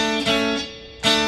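On an electric or acoustic guitar, a fretted note on the second string rings together with the open third string, cleanly picked twice with sustain between the strums, close and fairly soft, with no talking.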